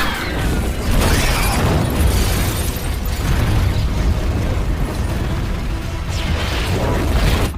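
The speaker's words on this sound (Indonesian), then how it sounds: "menembak mobil Bishop dari kejauhan sehingga menghancurkan mobilnya karena ledakan" A car explodes in a film scene from The Mechanic (2011), shot from a distance after its fuel has spilled. The blast is a loud, sustained roaring rumble with crackling debris and no voices.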